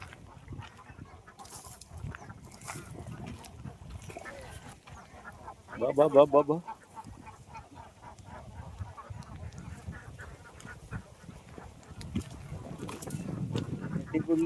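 Ducks settling on the water at a rural fishing spot give a short, loud burst of honking quacks midway, with people talking and outdoor noise around them.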